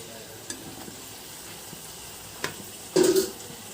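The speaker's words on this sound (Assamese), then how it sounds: "অলপ ৰেড নোহোৱালৈ মই এনেকৈয়ে ভাজি থাকিম" Dahi puska puris fry in oil in a small kadai, making a soft, steady sizzle near at hand. A few light clinks come through, then a louder stirring burst near the end, with no talking.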